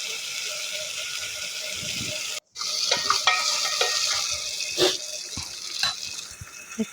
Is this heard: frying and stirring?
yes